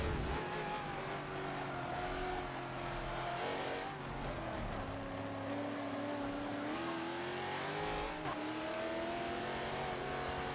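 Racing cars in the video game Forza Motorsport 7 roar through a close pack, engines revving and shifting with occasional tire squeal, a steady loud stream of engine tones.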